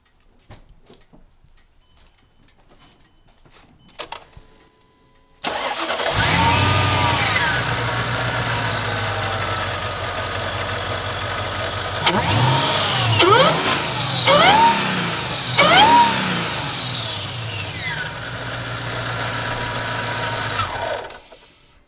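A supercharged Mercedes E55 fires up after a boost increase, catching loudly and settling into a steady idle. A series of sharp revs and blips follows, with supercharger whine riding over the engine before it drops back to idle.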